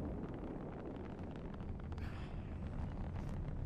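Deep, continuous roar of a Galileo rocket launching in the Watch Dogs 2 video game, a steady broadband rumble with heavy low end that holds without a break throughout, with no talk over it.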